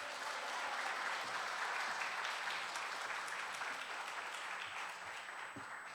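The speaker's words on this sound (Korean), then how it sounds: "우리 목사님 오실 때 할렐루야로 박수로 모시겠습니다." A church congregation at a Wednesday evening women's mission devotional service applauds to welcome the pastor to the pulpit, steady, dense clapping filling the hall for several seconds at moderate volume.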